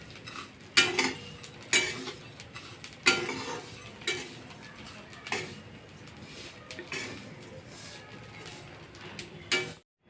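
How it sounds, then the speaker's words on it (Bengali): Vermicelli frying in ghee in a pan, with a metal spoon scraping and clinking against the pan as it is stirred. A faint sizzle runs underneath, and there is no talking. "সিমুইটা দিয়ে এটা গোল্ডেন ব্রাউন অবধি এটা ভেজে নিতে হবে।"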